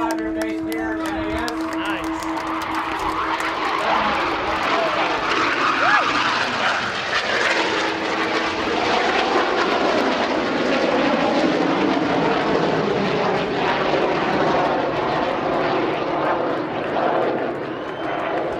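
A military training-squadron aircraft flies overhead with a loud, broad engine roar that swells and holds for many seconds, while people talk nearby underneath it.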